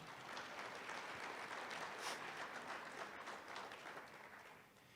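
Steady, dense applause from a crowd at a high school athletic hall of fame ceremony, honoring custodial and IT staff, a continuous faint wash of many hands heard from a distance and tapering slightly toward the end.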